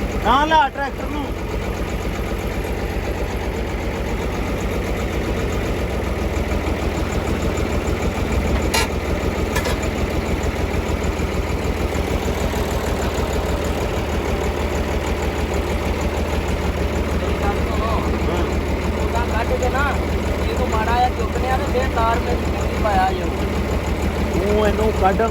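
A tractor engine idles in a steady, low, continuous rumble close by for the whole stretch, while voices talk intermittently over it.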